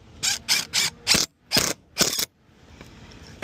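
A screw is driven into a wood panel in six short, sharp mechanical bursts with brief pauses between them, followed by quiet.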